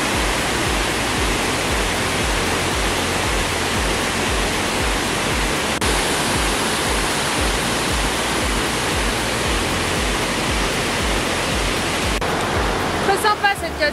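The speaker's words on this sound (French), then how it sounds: "on arrive à la cascade" A forest waterfall in the Cameron Highlands roars steadily and loudly throughout, a dense unbroken rush of falling water with no voices.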